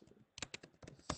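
Quick typing on a computer keyboard, a close cluster of crisp key clicks in short irregular bursts with brief pauses, no voice.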